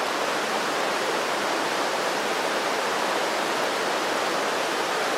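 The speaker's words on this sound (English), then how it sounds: "Got a little moisture anyway, so swirl it around to get all the" Water swirled around inside a Trangia camping kettle, a steady, close, full-band rushing slosh that holds evenly for about five seconds with no talking.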